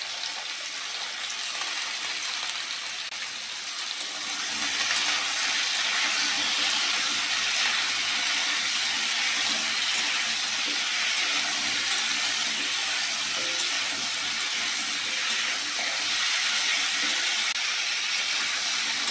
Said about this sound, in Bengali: লবণ আর হলুদ দিয়ে আলু আর পটলটা ভালো করে ভেজে নেব।